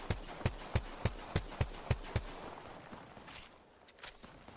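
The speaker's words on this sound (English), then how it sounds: "Some G7 shots" G7 Scout rifle shots in Apex Legends at a competitive match: about nine evenly spaced, crisp semi-automatic shots in quick rhythm, followed by fainter, more distant shots, with no talk.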